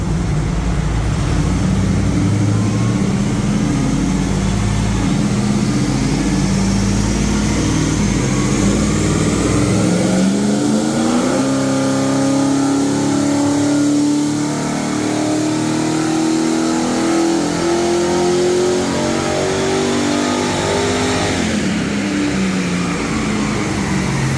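A Holden 308 V8 car on a dyno run, loud and close, rumbling at first and then revving steadily upward in a long sustained pull before dropping off near the end.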